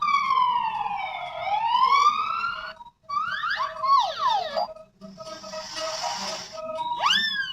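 Close, loud electronic toy police siren: sweeping wails followed by quick yelping bursts and a buzzing warble, cycling through several patterns.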